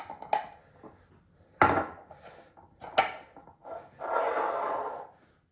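A lid set on a pot, giving three sharp metallic clanks spaced about a second and a half apart, then a brief rattling scrape, all close and with no talking.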